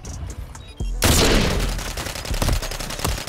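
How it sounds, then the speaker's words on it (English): Rapid gunfire in Call of Duty Black Ops 6, a loud sustained burst of shots with sharp cracks and booming low thuds, close and continuous after a brief quieter start. "he's gonna keep shooting"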